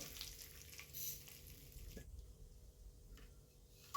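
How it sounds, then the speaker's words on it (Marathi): Curry leaves sautéing in hot oil for an oats chivda snack, giving a faint, steady sizzle with light stirring that drops quieter midway, no speech. "यामध्ये थोडी कढीपत्त्याची पाने घालून घेतली ती पण आपण थोडीशी परतून घेऊया तेलामध्ये"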